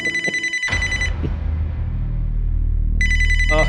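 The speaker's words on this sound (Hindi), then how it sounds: "एक फोन आ रहा है," A phone rings in two short electronic bursts separated by a low rumbling gap, loud and close, with no talk over it.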